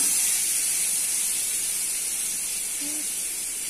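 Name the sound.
paneer frying in oil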